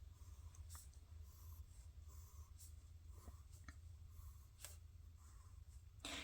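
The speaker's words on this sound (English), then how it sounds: "And then pencil in the arms of your star." A pencil sketches a starburst design onto a paper worksheet for a pysanky egg pattern, making very faint, soft scratching strokes with a few light taps against quiet room hiss.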